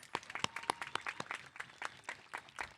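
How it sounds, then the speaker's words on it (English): A scattered round of applause from a small crowd at a high school graduation ceremony, quiet and sparse, individual claps distinct and uneven before it fades. "Let's give Brianna another round of applause, please."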